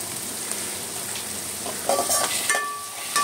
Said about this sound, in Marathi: आणि हे जिंजर गार्लिक पेस्ट आपण घालून घेतोय